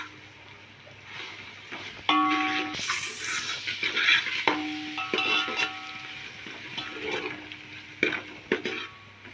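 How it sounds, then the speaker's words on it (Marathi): Ginger garlic paste frying in a pan for pav bhaji, a low sizzle under repeated scraping and clinking of a spatula or spoon against the cookware, with several sharp metallic taps up close. "आता आपण घालणार आहोत आलं लसूण पेस्ट, तीही चांगली परतून घ्या।"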